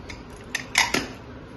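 A small metal vessel holding raw mango pieces in water is set down inside a pressure cooker, making a few short metallic clinks and clanks close by in an otherwise quiet kitchen.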